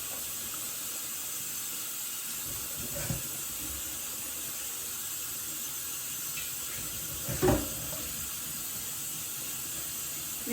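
Steady hiss of cold well water running from a tap, constant and close, with a couple of brief clunks partway through.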